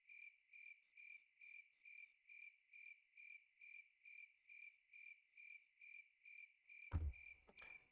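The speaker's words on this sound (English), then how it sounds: "The beautiful sound of crickets" Crickets chirp at night in the video game Dark Cloud, a steady, even pulse of high trills repeating about twice a second, fairly faint, with a soft thump and rustle near the end.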